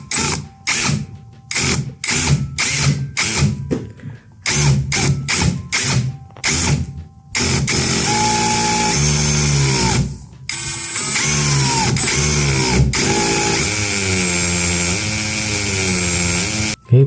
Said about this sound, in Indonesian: Dan ini dia hasilnya setelah dibor tadi ke dinding